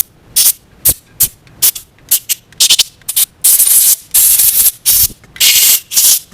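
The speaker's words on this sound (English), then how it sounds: "so you just kind of give it a little blow there" Compressed air blows out bolt holes on a car differential housing during servicing: a rapid series of short, loud hissing bursts, some brief and some held longer, close up with no talking.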